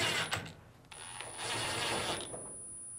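Two mounting screws are driven into a Fisher & Paykel appliance panel during a blower fan replacement, heard as a close whirring, ratcheting burst from a driver, then a short pause and a second longer run.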